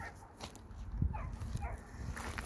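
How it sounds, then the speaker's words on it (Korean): A dog barks and yips in the distance near a riverside campsite along the Hantan River, a few faint, scattered calls over quiet outdoor background. "멀리서는 어, 개가 짖는 소리가 들려오고요"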